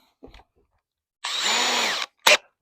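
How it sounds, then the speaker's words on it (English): A small power drill with a 3mm bit whirs steadily for under a second, pre-drilling holes close by, with brief tool knocks before and a short burst after. "I'm just going to use a little 3mm"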